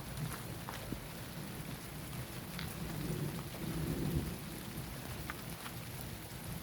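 A moderate August thunderstorm at Montady, France: steady rain hisses throughout while low thunder rumbles and swells in the middle, distant rather than sharp.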